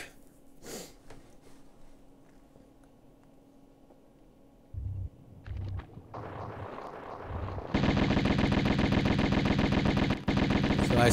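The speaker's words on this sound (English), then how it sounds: "So I start shooting as soon as I get down there." Gunfire in the Tomb Raider video game: a few short bursts, then sustained rapid automatic shooting that grows loud and dense, continuing steadily to the end, with no talk over it.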